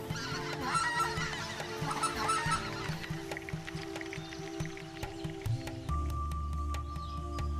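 Geese honk loudly and repeatedly in an outdoor hunting setting, a dense flock chorus that thins toward the end, with a steady low hum underneath.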